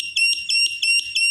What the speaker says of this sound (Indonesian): Terus ini alarm ya, alarm ya.